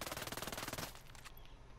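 A Vector Shorty SMG fires a rapid, close full-auto burst in the video game Ghost Recon Breakpoint, ending just under a second in with a short trailing echo.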